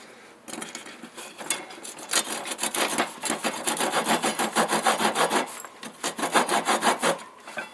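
A WJQ-308 Chinese military shovel's saw edge, like a rough hacksaw, cutting a small piece of wood: steady back-and-forth rasping strokes, close and fairly loud, with a brief pause partway through.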